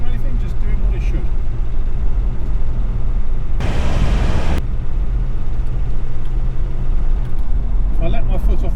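A Land Rover Defender 90 with the 300TDi diesel drives along with a steady low engine drone from inside the cab, a sharp broadband burst cutting through midway.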